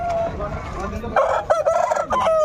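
Fighting rooster at a Sankranti cockfight in Mydukur, crowing loudly and close in a broken, warbling call over a noisy outdoor background with faint voices.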